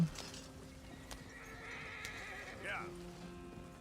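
A horse in Red Dead Redemption 2 whinnies loudly midway, with clip-clopping hooves around it and faint game ambience and some talk underneath.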